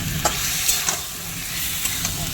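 Chicken and potatoes sauté in a pan for a dhaba-style chicken masala, a steady hissing sizzle with a few light taps and scrapes of stirring.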